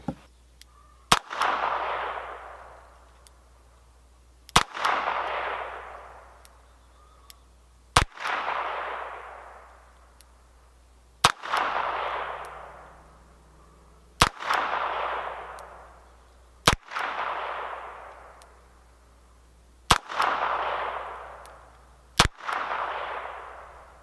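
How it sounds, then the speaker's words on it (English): Harrington and Richardson H&R 922 revolver fired double action, nine sharp loud shots spaced a few seconds apart, each crack followed by a long ringing outdoor decay. "we're going to go ahead and take shots at the other target, and we're going to do them in double action"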